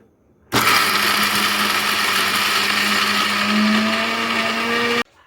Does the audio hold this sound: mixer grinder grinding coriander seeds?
yes